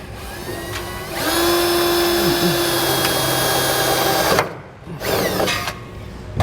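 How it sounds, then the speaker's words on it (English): A power drill with a step bit whines steadily for a few seconds, its pitch dropping partway through, then stops and briefly spins up again. "when drilling these out, I'm using a step bit"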